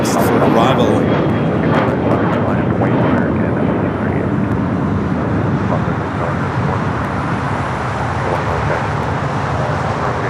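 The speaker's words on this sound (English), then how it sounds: "Now we got that Delta A330 Neo up next for arrival." A Delta Airbus A330neo jet arriving at LAX after a flight from JFK, a loud, steady broadband engine roar that holds throughout, with traffic noise mixed in and a voice talking over it.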